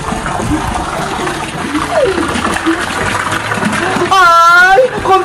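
A swimming pool being filled, with water gushing and splashing steadily under a voice talking, followed by a brief warbling electronic tone near the end.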